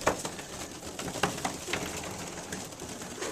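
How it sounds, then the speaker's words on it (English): Young pigeons coo and flutter while pecking at peanuts, a close, busy mix of soft calls, wing rustles and scattered taps on a hard surface, with no talking. "These peanuts should tame these young birds down."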